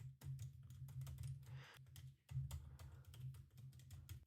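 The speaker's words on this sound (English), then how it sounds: "Okay, now I will try typing." Rapid clicking of keys on a computer keyboard, in quick bursts with short pauses, close by over a low steady hum.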